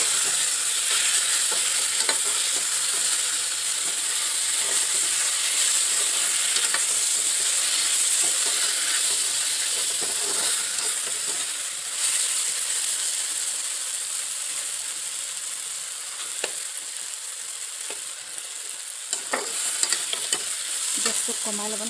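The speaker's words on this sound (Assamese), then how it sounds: "ভাজি ল'ম।" Taro stalks and potatoes with turmeric frying in a pan, a continuous close sizzle broken by the scrape and clatter of stirring throughout.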